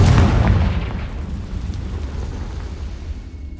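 A loud, close Confringo blasting-spell explosion in a Harry Potter game, a heavy boom at the start that rumbles and slowly fades away.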